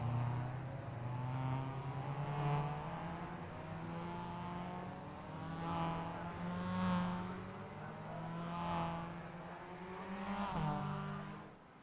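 Race cars roll past on the grid at Road America behind a Porsche safety car, a layered engine drone that swells and fades repeatedly as each car passes, steady and moderately loud with no talk.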